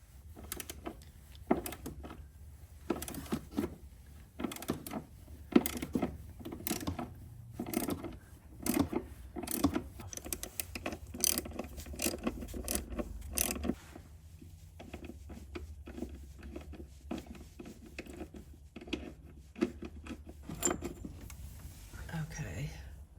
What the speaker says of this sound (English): I'm using a 13mm socket to loosen this bolt down in here.